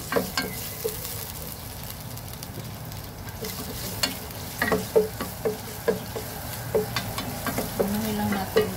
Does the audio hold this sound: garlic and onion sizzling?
yes